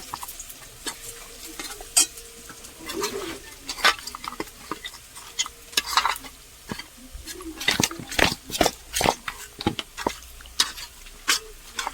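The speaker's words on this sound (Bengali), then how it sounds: "এদিকে চলছে পেঁয়াজ ভাজা" Onions fry in a pan for homemade biryani: a soft, constant sizzle broken by frequent sharp scraping stirring strokes close by.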